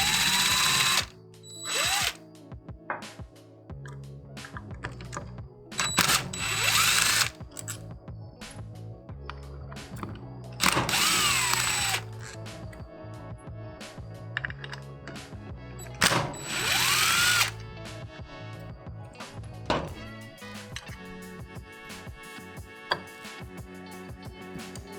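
Power drill or impact tool whirring in repeated loud bursts as it backs out the stator bolts on a 2001-2003 Suzuki GSXR 600 motorcycle, with metallic clinks and tool handling between bursts and no talking.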